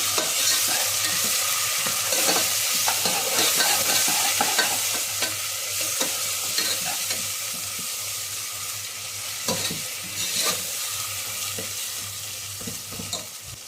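Ginger garlic paste and turmeric frying in oil with onions for a green chicken gravy, a close, steady sizzle broken by spoon scrapes and stirring knocks in the pan, without talk.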